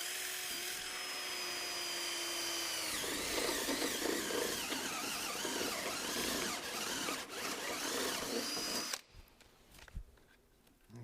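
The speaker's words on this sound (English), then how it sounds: "I pop these holes with a vary bit, 3/4 inch vary bit, and I just drill these holes" A power drill with a 3/4 inch vary bit bores holes for perimeter box beams, a loud continuous whine and grinding that runs for about nine seconds, then cuts off into quieter handling noise.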